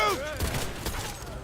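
A quick burst of gunfire in the video game Cyberpunk 2077 rattles amid shouted voices and game effects, brief and dense.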